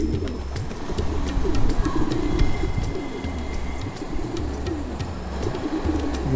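A pigeon coos repeatedly in low, throaty, rolling phrases, close and fairly loud, with no talking; a female Rampuri Kalsira pigeon.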